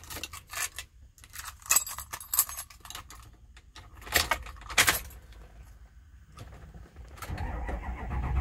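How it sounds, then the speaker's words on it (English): Silver keys jangle and click into the ignition of a 2006 Ford F-350 King Ranch with a 6.0L Powerstroke diesel, metallic rattles in several bursts, then the engine turns over and settles into a low running rumble. "We'll try one of these silver keys first,"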